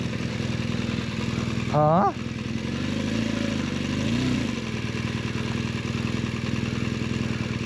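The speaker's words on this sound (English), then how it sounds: "The bike just lost all power. This is very strange." A BMW GS 1200 motorcycle engine runs at a steady, low idle after going into limp mode on a trail, close and continuous, with a brief exclamation from a voice.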